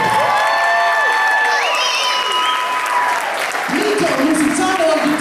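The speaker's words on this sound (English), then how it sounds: "let's give Vanessa a big round of applause" A music-school audience applauds and cheers loudly for a young singer, with whoops and children's voices rising over the continuous clapping.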